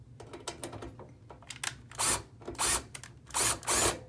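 Power drill driving screws to secure an outdoor RSP box, first some light clicks and handling, then four short loud whirring bursts close by.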